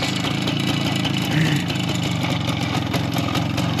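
A Minsk motorcycle with an engine overhauled in 2012 runs steadily at idle, a constant close mid-low drone that barely changes.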